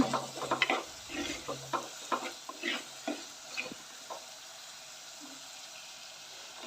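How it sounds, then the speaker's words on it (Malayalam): Tamarind water poured into prawn curry in a pan, soft sizzling and stirring scrapes with irregular splashy bursts early on, fading to a quiet simmer. "പുളി പുളിവെള്ളം മാത്രം ചേർത്ത് കൊടുക്കുകയാണ്"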